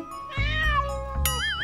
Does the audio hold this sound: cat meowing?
yes